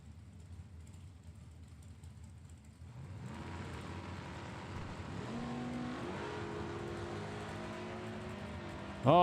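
A drag race between an Oldsmobile and a 2000 Chevy S10 pickup: a faint rumble that swells into a loud, rising engine roar as the cars launch and accelerate, continuing to build until the end.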